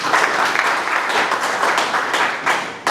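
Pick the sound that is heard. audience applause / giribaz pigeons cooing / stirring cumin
audience applause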